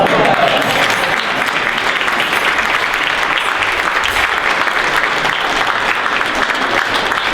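An audience claps for a volunteer at a magic show, with dense, sustained applause from many hands, close and loud, holding steady throughout without a break.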